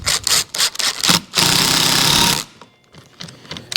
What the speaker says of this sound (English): you just want to drive these screws in